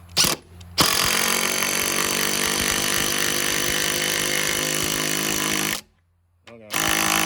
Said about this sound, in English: Now we're going to see if this little 20-volt DeWalt will run them in.